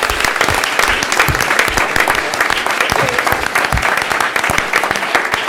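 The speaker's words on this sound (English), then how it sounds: "So can we please give applause to Randall for this accomplishment?" Close, lively audience applause at a board meeting, brisk individual claps standing out from a steady clatter that runs throughout.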